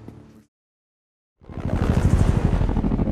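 Military helicopters, two Chinooks and two Apaches, set off together in an operation, their loud, steady rotor thump and engine roar surging in after a brief silence and holding close and heavy.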